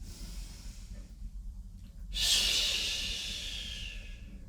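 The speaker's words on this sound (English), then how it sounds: "pull up those weeds, SH sound as you throw it down" A forceful "SH" exhale during a yoga arm movement, like throwing down pulled weeds. A quiet breath comes first, then a loud, sustained hissing rush of air that slowly fades over about two seconds, close to the mic.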